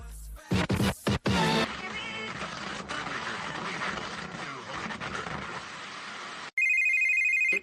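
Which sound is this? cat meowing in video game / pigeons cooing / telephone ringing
telephone ringing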